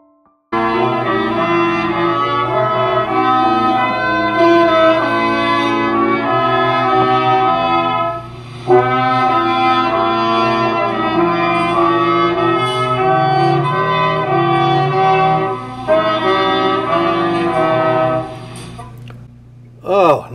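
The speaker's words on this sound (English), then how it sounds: "Nothing like a little Salvation Army band music to get me in the mood for the season." A Salvation Army band plays Christmas music, with brass chords sustained in steady phrases and brief pauses between them, heard fairly close and loud throughout.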